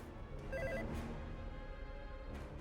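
A telephone rings with a repeating electronic tone, fairly faint, heard alone for a few seconds.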